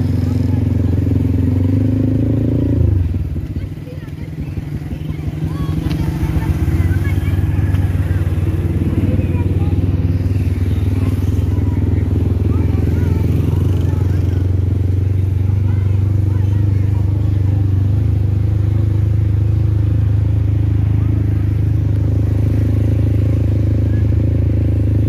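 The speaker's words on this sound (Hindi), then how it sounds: "मोटरसाइकिल" A motorcycle rides along a road near a canal headworks during Eid, its engine droning loud and steady throughout with a brief dip early on and wind noise, and a voice speaking over it.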